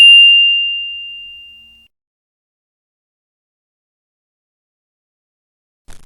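A single clean bell-like notification ding rings out and decays over about two seconds, followed by silence and a tiny click at the end.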